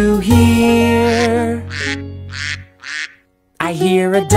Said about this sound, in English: I hear a duck, duck